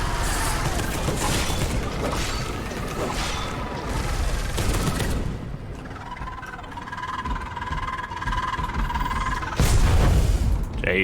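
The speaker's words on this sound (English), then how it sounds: "Another one of those exploding things." Explosions and heavy weapon fire in the game Space Hulk Deathwing Enhanced: loud booming bursts crowd the first few seconds. A quieter mechanical hum follows, then a sharp, loud blast near the end.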